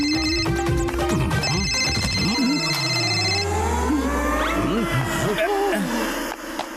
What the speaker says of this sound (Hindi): फोन का रिंगटोन तो घर में ही बज रहा है।